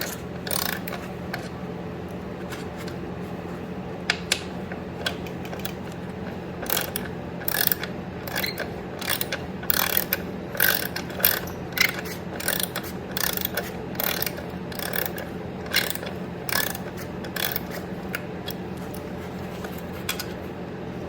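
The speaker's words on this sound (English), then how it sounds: "the skid plate will fall off when we undo this final bottom bolt" Steady ratchet clicking as a wrench undoes the bottom bolt holding the skid plate on a 1971 Yamaha RT1B 360, rapid pawl ticks in bursts over a low hum, close and fairly loud, no talking.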